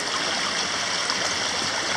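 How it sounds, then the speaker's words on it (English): Water flows steadily through a seasonal creek on the Pacific Crest Trail, a continuous close rushing and babbling wash with no talk. "water's flowing up here"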